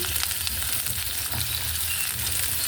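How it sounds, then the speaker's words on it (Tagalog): Food sautés in a hot pan at home, a continuous close crackling sizzle with small pops and scraping, steady throughout without any voices. "Gisa-gisa lang naman tayo dito at ating magluluto ng ating ulam"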